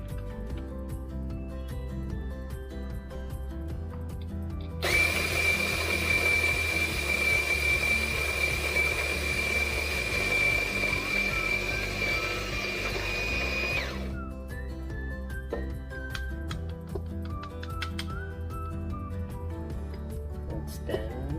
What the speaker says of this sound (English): Let's grind the bean.